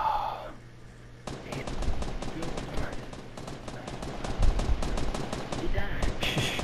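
Rapid bursts of automatic gunfire from the video game Fortnite rattle continuously for several seconds, loud and close, dense repeated shots after a brief quieter opening.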